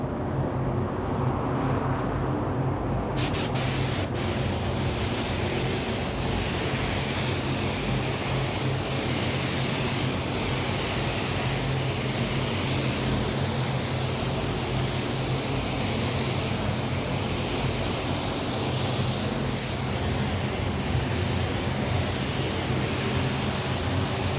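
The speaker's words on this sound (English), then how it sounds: "So we're going to go ahead and put a coat of base down." A spray gun lays a base coat of automotive paint, a loud continuous hiss of air and atomized paint that starts after a brief quieter moment and holds steady to the end, with no talk.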